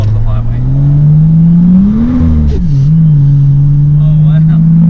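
A car engine hums steadily and rises in pitch as it accelerates, loud and close from inside the vehicle, with a brief dip before climbing again.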